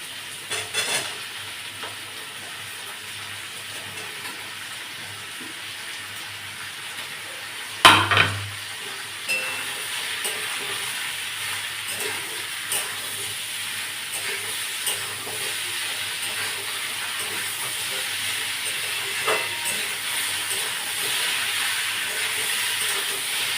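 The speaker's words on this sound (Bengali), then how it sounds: "এবার আলু একটু হালকা ভাজা হোক" Potatoes fry with tomato in a pan for a puti fish dish, a continuous hissing sizzle with one sharp clatter early on and occasional light stirring knocks.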